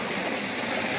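Water rushes steadily down an irrigation canal in Wakan village, Oman, carrying the water down to the crops below. The flow makes a continuous close gurgling rush with no voices.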